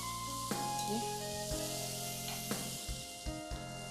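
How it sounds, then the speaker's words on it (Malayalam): Curry leaves sizzle and get stirred in a pan while tapioca and egg cook, a steady frying hiss with a few soft scraping knocks from the spoon, fairly quiet and continuous. "കറിവേപ്പില അതും കൂടെ ചേർത്ത് കൊടുക്കാം ഇളക്കി കൊടുക്കാം"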